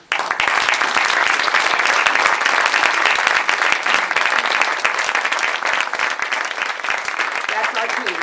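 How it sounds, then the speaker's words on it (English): An audience at a community address applauds heartily, dense continuous clapping that holds steady and loud throughout before thinning slightly near the end. "if you give them a hearty round of applause"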